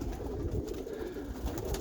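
Roller pigeons coo in a steady, low murmuring chorus, close and continuous throughout, with soft layered throaty calls overlapping and no speech.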